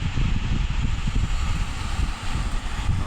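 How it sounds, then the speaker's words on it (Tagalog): Strong wind by the sea buffets the microphone with a steady, loud rumbling roar, with faint surf mixed in and no voices. "Malakas yung hangin guys."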